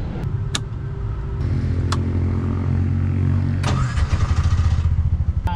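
Bajaj RE three-wheeler tuktuk engine cranking and starting, a steady whirring crank that catches near the end into a loud, rhythmic, chugging idle close by.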